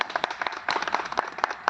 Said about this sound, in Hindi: हम रामचरण के लिए एक बार ताली तो बजाएं